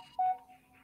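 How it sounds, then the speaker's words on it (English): A phone notification sounds as a single short, clean electronic tone over a faint, steady background hum. "one of the first sound notifications I put on my phone"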